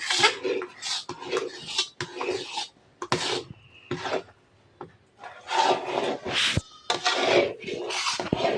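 Homemade ABC malt is stirred in a pot with a ladle, giving rough scraping and rasping strokes against the metal in irregular bursts separated by short pauses. Close and loud, with no talking.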